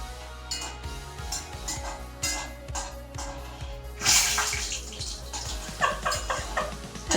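Water clinging to a spatula sizzles in a hot pan where curry leaves and chillies are frying for a Kerala-style beef roast. The hiss flares sharply in the middle and rises again in shorter spurts, over steady scraping and clinking.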